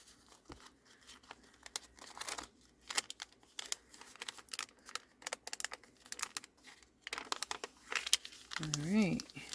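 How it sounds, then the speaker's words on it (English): Crinkly, glue-stiffened junk journal pages flipped by hand, a run of faint irregular papery crackles and rustles, with a brief voice near the end. "A little crinkly from the gluing, but that's okay. That makes it just sound even better."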